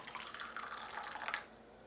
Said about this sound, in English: pour the hot water straight into our empty gaiwan first